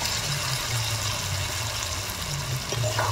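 Fried potato and pointed gourd pieces added to bubbling masala in oil for a village-style curry, making a continuous close sizzle and hiss with a low hum in the background.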